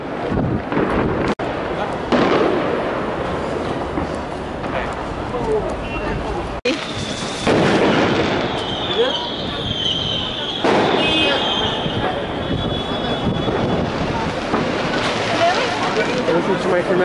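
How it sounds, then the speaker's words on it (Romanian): New Year's Eve fireworks bursting across Berlin streets, a dense constant crackle and rumble of explosions with occasional sharp bangs and whistles, loud and continuous under people talking. "Artificii peste tot."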